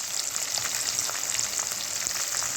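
Finely chopped onions and turmeric fry in a pan with a continuous close sizzle and crackle, steady throughout with no voice over it.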